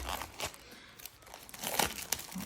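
Crinkly plastic packaging being unwrapped from a deck of tarot cards up close, with irregular rustles and crackles, getting busier toward the end.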